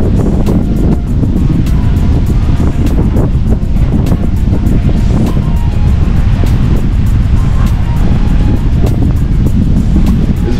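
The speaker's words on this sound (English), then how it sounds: "It's very, very windy." Heavy wind on a San Juan beach buffets the microphone in a continuous, loud roar, with surf rumbling underneath and no clear voices.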